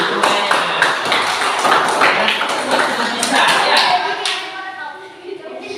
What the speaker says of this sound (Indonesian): ganti tepuk tangan dulu